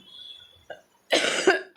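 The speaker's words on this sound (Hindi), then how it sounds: "तेज़ बोलने से खांसी हो रही है" A single harsh cough, close and abrupt, following brief quieter breathy sounds and ending with the start of another burst.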